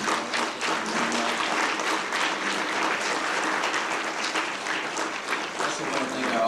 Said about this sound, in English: Round of applause for all the candidates.